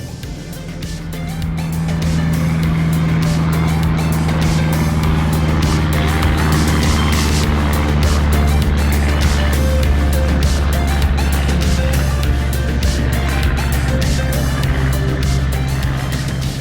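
Airplane rolling down the runway on its takeoff run, a loud, steady, close engine roar with a deep rumble that swells in the first two seconds and then holds constant throughout.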